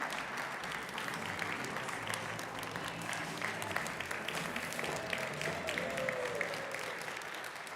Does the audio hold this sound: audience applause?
yes